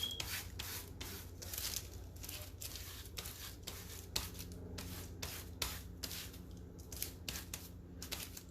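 Hands rub wax into packaging paper, making repeated soft rustling, scraping strokes in an uneven rhythm, close up and quiet.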